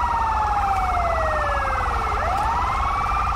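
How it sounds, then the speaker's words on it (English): A loud wailing ambulance siren in GTA V rises and falls continuously, with a second siren tone sweeping down then back up, sounding close and steady throughout. "The ambulance just drove straight past us."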